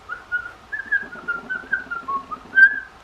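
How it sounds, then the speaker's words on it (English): Someone whistles while inhaling, a wavering tune with an airy, breathy tone, a series of short close notes that rise and fall. "I can only whistle if I'm sucking the air in like this"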